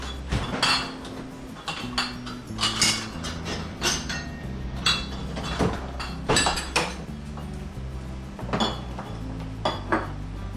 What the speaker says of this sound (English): I'll go ahead and start filling them with a spoon